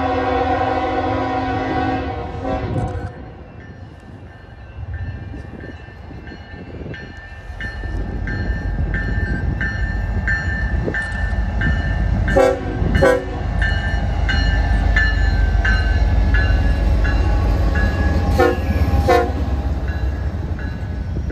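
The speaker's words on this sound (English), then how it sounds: "Next up, we get another eastbound UP intermodal with some good horn action." An eastbound Union Pacific intermodal freight train blasts a long loud horn on approach, then rumbles past close by with wheels clattering over rail joints for a sustained stretch, outdoors with no voices.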